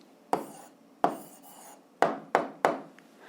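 A pen scratches out an answer on paper in five short, separate strokes, each a crisp rasp that fades quickly, heard close up in a quiet room.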